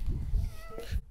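A house cat meows once, short and close, while a brief murmur of voices sits underneath it indoors.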